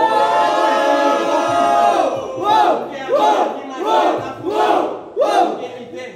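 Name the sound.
crowd cheering at rap battle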